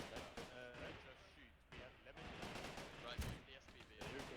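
Dense rapid gunfire and bursts in a World War II battle video game, continuous and busy throughout, with players talking over the shooting.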